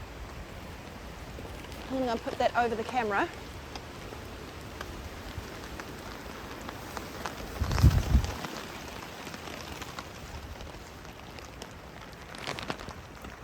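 Steady rain hiss on a mountain camping trip, pattering continuously around the camp while a person talks close by.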